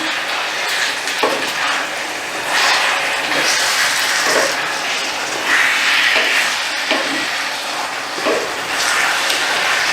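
Chicken livers sizzle steadily in a hot pan while being stirred, a loud continuous frying hiss broken by occasional spoon scrapes and clicks across the whole stretch.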